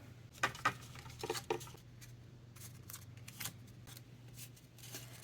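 Scissors snipping out paper pieces for a craft split box, several quiet crisp cuts in short clusters near the start and a few more scattered later, close by with no voices.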